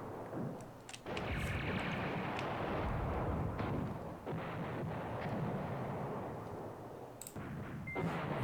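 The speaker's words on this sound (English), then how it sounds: "So let's just continually bombard all those units." Sustained artillery bombardment in the wargame Command Ops 2: a heavy rumbling roar of shelling that swells after a brief opening lull, with scattered sharper bursts.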